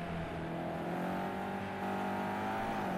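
A BMW GT3 race car in a racing video game at Fuji Speedway, its engine droning steadily and loudly, with the exhaust's crackling misfires barely standing out above the hum.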